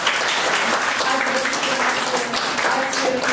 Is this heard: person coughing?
no